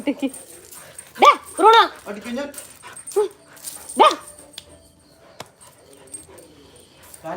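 A dog that usually goes without a collar or belt barks in sharp yips and whimpers in several bursts, close by, with people talking around it.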